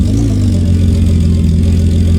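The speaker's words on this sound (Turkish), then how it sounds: "arabanın motor sesinden de beni duyamazsınız ki" A car engine in a children's TRT Çocuk video game, a loud, steady droning hum like a constant idle or throttle, close and unbroken, with no talking.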